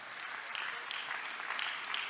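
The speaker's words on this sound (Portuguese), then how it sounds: "Você poderia aplaudir a Jesus por causa disso?" Sustained applause from a church congregation fills the space, a steady dense wash of many hands clapping at moderate distance without pause.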